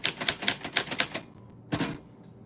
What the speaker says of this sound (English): I'll add it to the typewriter.